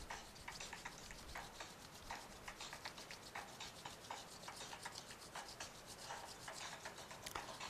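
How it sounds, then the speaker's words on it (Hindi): Hands rubbing palms together hard and fast during a self-therapy exercise, a dense continuous swishing friction that goes on steadily with short rhythmic surges and no talking. "पूरी ताकत के साथ अपने दोनों हथेलियों को रब कीजिए"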